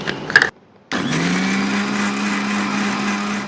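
Electric blender whirring steadily as it beats a shawarma mayonnaise mixture, starting abruptly after a brief clatter and a pause, then holding a loud, even motor drone to the end.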